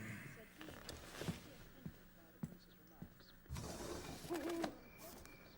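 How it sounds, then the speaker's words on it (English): A barn owl call from a Harry Potter radio drama: a brief owl sound effect rises out of a domestic scene, heard beneath and between conversational voices. "Oh, it's a barn owl."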